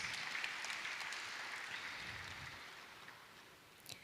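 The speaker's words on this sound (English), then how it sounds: "Please give him a round of applause." Sustained applause from a convocation ceremony audience honoring an award-winning psychiatry graduate, an even wash of many hands clapping that gradually softens over four seconds, heard from a distance in a large hall.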